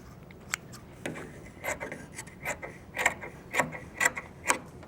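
Scissors snip fabric at a cover stitch machine while pleats are being made, a series of short, crisp metallic cuts in an irregular rhythm, close and fairly quiet with no talking.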